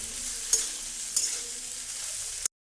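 Egg pasta with spices being stirred in a sizzling pan: steady frying hiss with two sharp scrapes of the spoon against the pan, then an abrupt stop.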